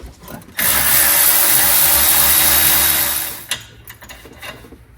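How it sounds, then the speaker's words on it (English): A power tool whirs loudly for about three seconds, loosening a clutch bolt with a 12mm socket on a 2007–2016 Yamaha G29 Drive golf cart, then cuts off and is followed by faint clicks. "So mine takes a 12mm socket. I'm going to hold the clutch, crack open that bolt."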